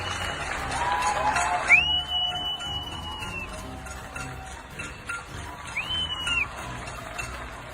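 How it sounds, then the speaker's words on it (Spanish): In Peru during the March 2020 national emergency, crowds applaud to honour workers: a distant wash of scattered clapping with a couple of whistles rising above it, fairly faint. "se pedía a la población aplaudir como una forma de reconocer la sacrificada labor de los peruanos"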